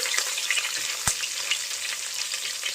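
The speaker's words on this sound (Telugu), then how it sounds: "పుదీనా కూడా వేసుకుని బాగా ఫ్రై చేసుకున్నాము" Onion, capsicum, potato, tomato, green chilli and mint frying together for vegetable biryani, a steady close sizzle with stirring and one sharp clack of a utensil.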